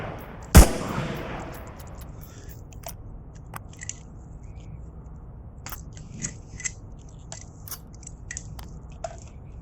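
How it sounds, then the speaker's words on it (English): A weapon reload in the Onward VR shooter: one loud sharp metallic clack near the start, then faint scattered clicks and ticks of handling in a quiet room. "And that's how fast it's done for a reload"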